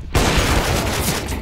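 A dense burst of rapid video game gunfire, loud and close, packed into a brief moment.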